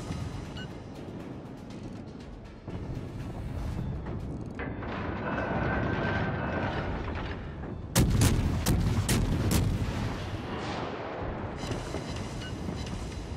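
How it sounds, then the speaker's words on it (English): A Japanese cruiser in World of Warships Legends fires a naval gun volley, a loud burst of closely spaced booms rising out of a constant rumbling battle ambience. "I lit the enemy on fire with that volley"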